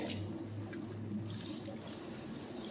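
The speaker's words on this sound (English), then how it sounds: "And then you dump it into a strainer." Cooked vermicelli noodles and cold rinse water tip into a kitchen strainer with a steady close rush and splash of running water, no talk over it.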